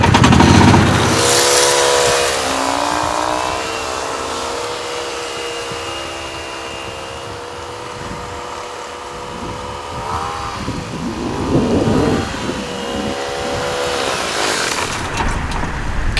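Jacobsen infield drag vehicle circling a baseball diamond, its engine a loud, steady droning hum with rising and falling pitch as it turns, close by and continuous, no talk.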